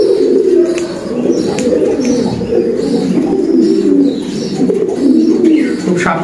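Jacobin pigeons on a farm coo continuously in a dense, overlapping chorus of low warbling calls, close and loud, with occasional faint chirps and wing sounds.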